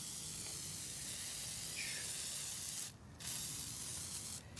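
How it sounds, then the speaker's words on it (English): A continuous, close aerosol hiss sprays down the screws and parts of a Tekno SCT410.3 RC truck, steady for several seconds with two brief breaks near the end. "I'm just going to douse screws, parts, pretty much the whole thing."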